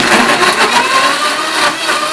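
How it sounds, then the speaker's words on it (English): A blender runs on high, grinding lemon juice with dried peppers into a loud, steady whirring roar with slight fluctuations as the contents churn, close up and without talk. "Next we're going to turn the blender on high."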